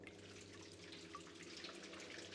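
A faint, steady stream of water running from a tap in a quiet indoor room in the horror game Dread Flats, a soft continuous hiss with a low background hum and no talking.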